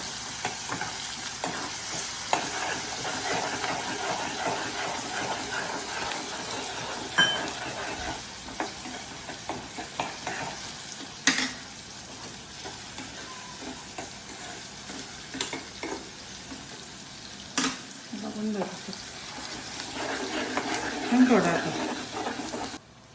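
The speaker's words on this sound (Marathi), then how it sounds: "कांद्याला गोल्डन कलर येस्तवर चांगला कांदा मारून घ्यायचा मीडियम गॅसवर" Onions fry in a pan over a medium gas flame until golden, a steady close sizzle that runs throughout, broken by occasional stirring scrapes and clatters, with someone speaking at times.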